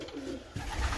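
Pigeons in a loft, cockbirds kept for the 2020 breeding season, give low soft coos and rustling that swell louder in the second half of the moment, with no talking.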